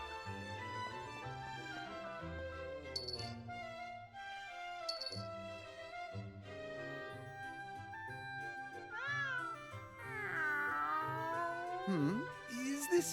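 A cat meows in a video game scene about a mischievous cat that stole a purse. Several short meows rise and fall over game music and tones, with no speech.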